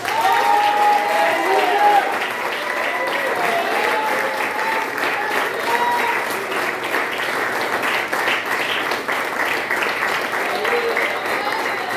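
Congregation applauding during a church prayer service, a full, sustained wash of clapping with crowd voices and a speaker talking over it.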